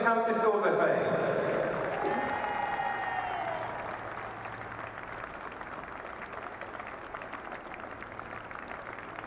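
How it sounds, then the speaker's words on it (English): A crowd applauds the runners-up, Sussex County Schools FA, at a girls' under-16 football trophy final, with a voice over a public-address system at the start and sustained clapping that slowly fades but continues throughout. "a big round of applause for the runners-up, Sussex County Schools FA"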